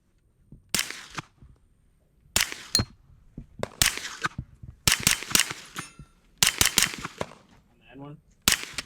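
A Springfield Kuna pistol fitted with an HBI short-stroke buffer kit fires in several loud, sharp bursts of rapid shots separated by pauses, the reports crisp and close, with a brief ringing clang after one string.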